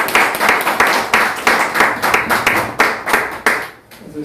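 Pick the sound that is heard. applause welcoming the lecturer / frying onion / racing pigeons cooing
applause welcoming the lecturer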